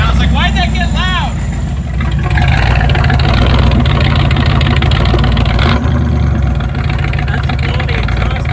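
A 1975 Chevrolet Corvette engine runs loud up close with a deep, rough exhaust drone, while a person talks over it.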